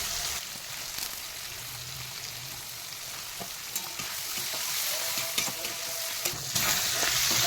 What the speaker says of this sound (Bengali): এই আমার চিংড়ি মাছ ভাজা হয়ে গেছে